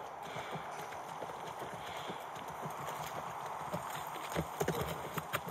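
Faint horse hooves clip-clop at a steady walking rhythm over a soft background hiss, near a ranch in The Last of Us Part 1 remake.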